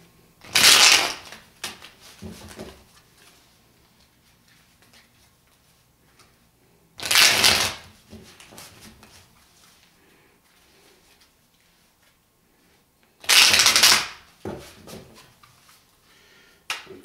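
Tarot cards riffled and shuffled in three short, crisp bursts, each about a second long, separated by long quiet pauses.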